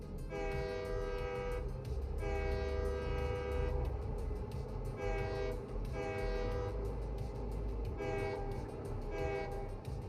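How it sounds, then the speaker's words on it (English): A train in the video game Satisfactory runs through a cave with a continuous low rumble. Loud, harmonic horn blasts repeat about every two seconds over the rumble. "Do a quick train test through that left side."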